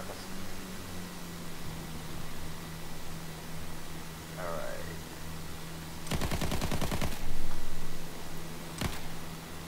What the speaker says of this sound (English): I'm going in for a gun run.